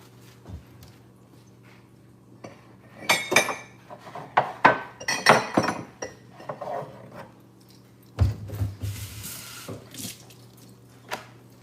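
Water from a pot that has been boiling pours and splashes into a kitchen sink, with clinks of the pot against the basin in irregular bursts, close by and moderately loud, no talking.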